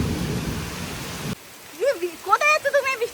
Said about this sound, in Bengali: দেখো হঠাৎ করে এরকম ঝোড়ো হাওয়া বইছে আর বৃষ্টি, তার সাথে অনবরত বৃষ্টি হচ্ছে।